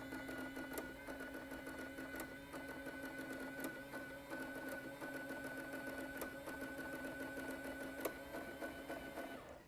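Sharp XE-A107 cash register printing a refund receipt, a steady mechanical buzz with rapid ticking line feeds running continuously and fairly close for the whole stretch.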